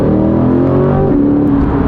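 A C8 Corvette Stingray V8 accelerates hard with wheel spin, its engine note loud and close, rising through the revs before a sudden drop in pitch as it shifts, then pulling on steadily.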